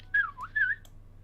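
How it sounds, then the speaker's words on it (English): A character whistles two short rising-and-falling notes during a tabletop fantasy role-play session, clear and close over a low steady hum, with no talking. "you just hear him whistle"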